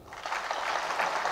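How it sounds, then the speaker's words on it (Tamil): A short wash of audience applause at a Tamil film event stage, a dense, even patter of many hands clapping that holds steady for about a second and a half. "கைதட்டுங்க."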